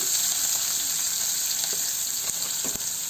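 Onions and tomatoes sizzle steadily in hot tempering oil for a tomato yogurt pachadi, a loud continuous hiss with a couple of soft stirring knocks near the end.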